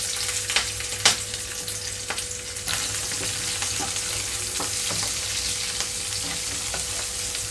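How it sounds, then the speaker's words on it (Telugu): Onions and green chillies sizzle in hot oil in a pan for a brinjal and green pea curry, a dense continuous hiss close up, punctuated by a few sharp ladle clicks and stirring taps, with nobody talking. "కట్ చేసి పెట్టుకున్న ఉల్లిపాయలు పచ్చిమిరపకాయలు వేస్తున్నాను"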